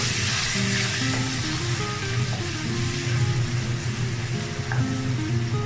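Onion paste and sliced green chillies for a tuna fish curry fry in a pan, a continuous close sizzle with soft stirring, no talk.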